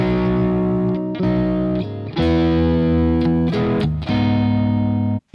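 A distorted, effects-laden instrument plays a relaxed sequence of sustained chords, each held for about a second before changing, with no talking.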